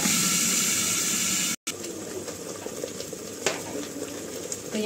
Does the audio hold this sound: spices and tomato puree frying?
yes